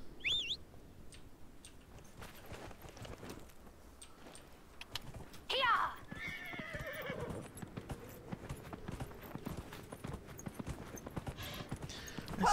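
Horse in Dragon Age Inquisition, hooves clip-clopping steadily at close range with a sharp neigh partway through, faint bird calls mixed into the game's quiet outdoor ambience.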